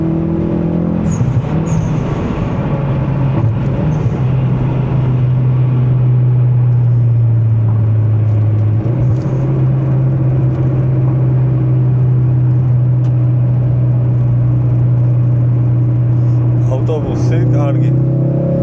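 A Ford Focus RS with a big turbo accelerates on a motorway, its engine droning steadily and loudly with a pitch shift partway through, under someone talking.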